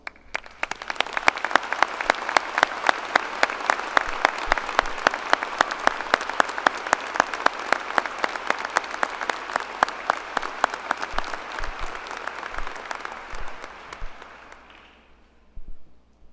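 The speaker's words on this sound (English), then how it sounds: "I'd like to give you a round of applause." Sustained applause from a large audience at a university undergraduate graduation ceremony honoring military graduates, dense clapping holding steady for about fourteen seconds before tapering off, with a brief burst at the end.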